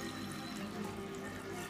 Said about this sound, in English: Water, it's about 1 liter of water.